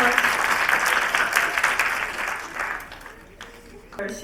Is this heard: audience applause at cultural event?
yes